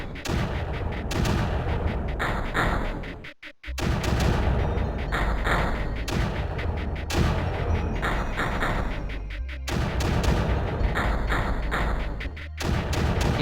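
Mortar and blaster fire in the strategy game Creeper World, a dense run of sharp synthetic shots and thuds repeating in rapid bursts, loud and close, broken by a brief pause midway.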